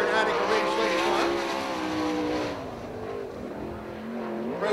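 A sprint car at Attica Raceway Park, an All Star Sprints machine, runs a qualifying lap with a loud, steady high-revving engine drone that eases slightly partway through, under a track announcer's voice.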